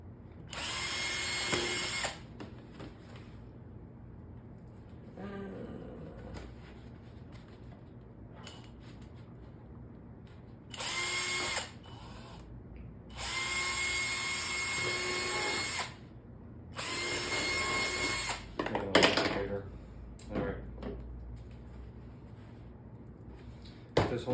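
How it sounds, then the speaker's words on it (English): A power drill drills holes in the top of a plastic container, whining in several separate bursts of a few seconds each, with quiet pauses and small handling clatters between them. "Drill holes in the top."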